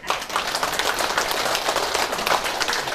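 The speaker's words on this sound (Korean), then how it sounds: "박수 한번 쳐드리세요." An audience at a church spring retreat lecture claps in a dense, steady burst of applause that fills the room and stays loud for the whole stretch.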